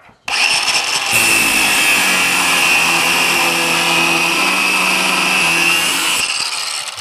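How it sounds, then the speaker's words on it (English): An angle grinder spins up and grinds steadily against metal for about six seconds, a loud, close, high-pitched whine that cuts off abruptly near the end. "Grinder up!"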